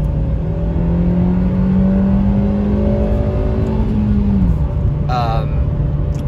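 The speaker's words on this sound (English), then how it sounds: "Let's do a little acceleration here." A 2023 Nissan Versa S with a manual gearbox accelerates, its engine drone climbing steadily in pitch for several seconds before dropping at a gear change, loud and continuous from inside the car.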